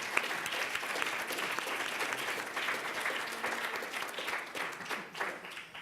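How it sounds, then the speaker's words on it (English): An audience at a classroom-themed event applauds a group of actors, a sustained, fairly quiet wash of many hands clapping that holds steady and thins a little toward the end. "can we just give them a round of applause?"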